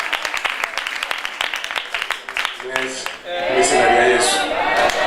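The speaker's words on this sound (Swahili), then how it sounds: "Makofi mengi sana." An audience at a church anniversary celebration breaks into loud, sustained applause and cheering, building from scattered talk and claps into a dense wash of clapping that holds to the end.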